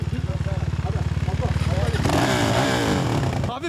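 Off-road jeep engine at a hill-climb motor festival, rumbling with steady pulsing firing beats on light throttle, then revving up louder and rougher, close by with people talking over it.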